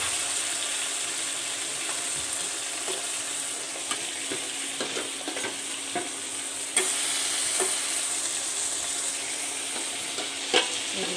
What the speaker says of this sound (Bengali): তো দেখো মাছগুলো ভাজা হয়ে যাচ্ছে।